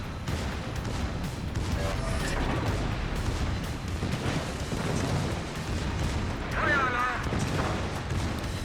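Naval secondary guns on a Grosser Kurfürst battleship fire in World of Warships, a dense continuous roar of booming gunfire and rumble filling the scene, with a voice speaking over it.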